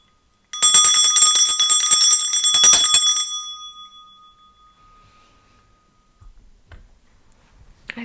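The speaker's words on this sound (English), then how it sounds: "I'll start by clearing the energy with my bell." A single small bell rung to clear energy, a bright, close rapid ringing for about three seconds that fades into a lingering tone, followed by quiet with a few faint taps.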